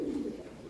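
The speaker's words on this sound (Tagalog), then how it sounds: "Ito, meron tayong ibon dito." A racing pigeon gives a single short, soft coo, close by and quiet.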